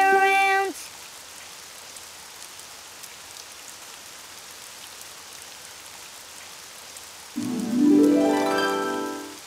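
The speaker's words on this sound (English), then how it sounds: "it's raining outside" Steady rain hisses evenly throughout, with a brief musical tone at the start and a rising melodic sound near the end.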